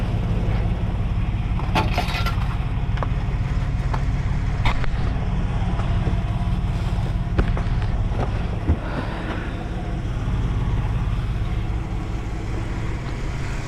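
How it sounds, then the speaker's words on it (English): A Chevy Silverado truck with a 4.3 V6 idles steadily in a continuous low rumble, with faint wind noise over the microphone and a few light clicks. No one talks. "So that's the truck running pretty good."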